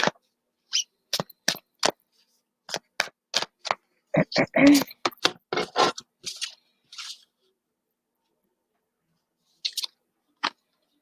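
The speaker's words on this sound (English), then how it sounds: "And I'm just shuffling" Playing cards are shuffled by hand in a string of sharp riffling snaps and clicks, close and dry, clustered in bursts with pauses of near silence between them.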